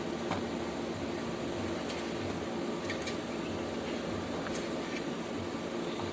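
The fan motor of a split-type Tecnolam air conditioner, which has a fault, runs as a steady hum and whoosh with a few faint ticks over it, quiet and constant.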